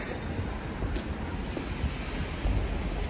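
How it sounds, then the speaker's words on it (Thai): Strong seaside wind in Busan buffets the microphone with a steady roar, and surf and waves rumble beneath it. "ลมแรงมาก"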